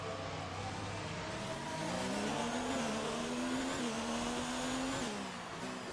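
An F1 2019 race car skids and rumbles through a gravel trap, its engine whining at a steady high pitch with a loud, continuous gritty roar and no speech.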